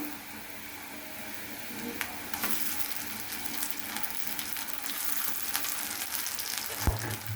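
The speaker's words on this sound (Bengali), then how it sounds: "এখন এখানে দিয়ে দিব আদা রসুন বাটা," Ginger garlic paste sizzles in a pan with fried onions, a soft steady crackle close by with occasional louder pops and a brief clink, no voices.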